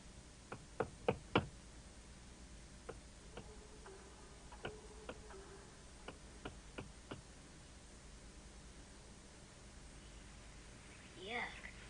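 Knocking on the walls of an old house in a 1979 TV horror program: sharp, isolated raps come in small irregular clusters with pauses between them, sounding moderately close over a steady background hiss.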